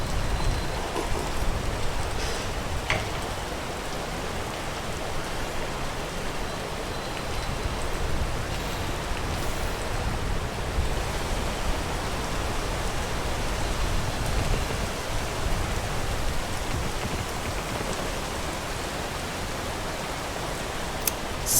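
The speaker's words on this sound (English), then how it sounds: "the rain is just gonna literally rain in our parade" Steady rain pouring down in a rainforest, a dense, continuous wash of drops with occasional nearer splatters, loud and unbroken throughout.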